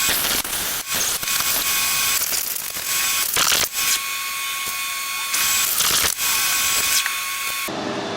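A threading die cuts a thread on a vintage Crossley engine needle valve, giving a loud, continuous grinding and whirring with faint scraping ticks, close up and alone without speech.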